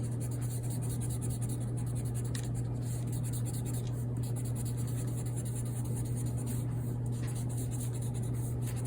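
An oil pastel drawing of an underwater scene being erased, a continuous soft scrubbing texture lasting several seconds, close and steady over a strong constant low hum, with no speech.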